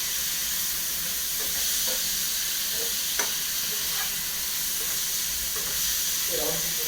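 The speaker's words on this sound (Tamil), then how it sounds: "அப்படியே தக்காளியை போட்டுக்கிடுவோம். தக்காளி கொஞ்சம் நல்லா வதங்கணும்." Tomatoes for egg curry frying in a pan, giving a continuous sizzle and hiss with faint stirring scrapes, close and steady.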